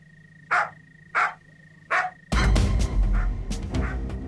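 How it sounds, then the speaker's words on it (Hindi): A dog in a tense police-drama scene barks three times in clear, evenly spaced bursts, then a louder stretch of mixed bangs and noise follows; no speech is heard. "क्यों भौंक रहा है?"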